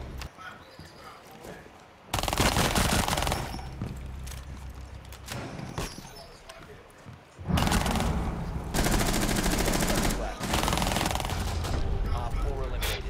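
Bursts of rapid gunfire in a sci-fi alien shooter video game, loud sustained volleys alternating with quieter stretches, with players talking in the background.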